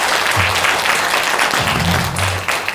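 Listeners at a lecture gathering give a round of applause that is loud and close, a dense wash of clapping with faint low murmurs of voices underneath.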